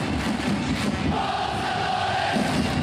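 A crowd of 40,000 football supporters in Sapporo Dome roars and chants continuously, a dense, loud wall of voices filling the whole stretch.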